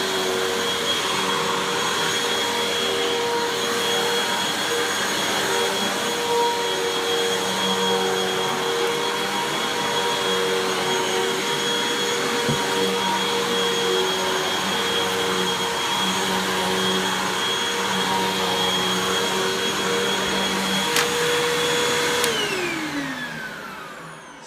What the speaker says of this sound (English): There's the Hoover